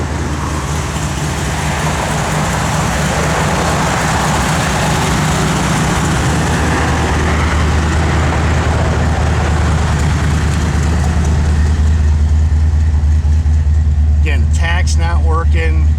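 A 1968 AMC AMX engine idles steadily with a deep, constant rumble up close, and brief speech comes in near the end.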